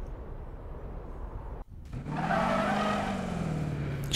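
A 1932 Ford in the Need for Speed racing game drives with a steady engine drone and tire squeal, which drop out briefly before coming back stronger and sustained, close and loud with no talk.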